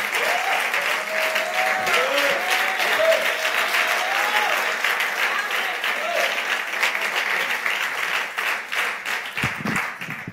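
A church congregation applauds and cheers in acclaim, a dense, steady wash of clapping with raised voices sustained throughout, loud and close, while a speaker's voice carries over the crowd.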